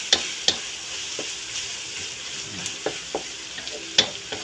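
Dried anchovies sautéing in a pan while Filipino laing is cooked, giving a steady close sizzle with scattered sharp pops and utensil stirring taps.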